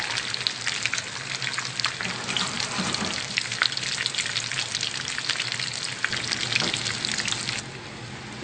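Clam fritters, New England clam cakes, fry about four at a time in oil in a 10-inch skillet, giving a dense, close, rain-like crackle that stays constant and eases slightly at the end.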